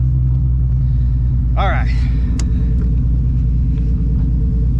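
Steady low engine rumble from a tuned Nissan 350Z with a VQ35HR engine while driving, droning throughout from inside the car, with one short spoken word over it.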